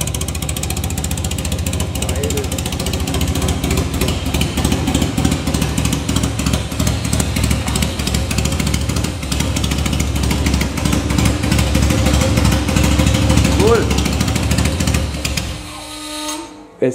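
A cafe racer motorcycle engine runs steadily at close range, a loud continuous rumble with a fast mechanical rattle, cutting out abruptly near the end.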